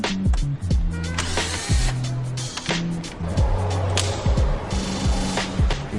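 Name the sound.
removing screws from grille center portion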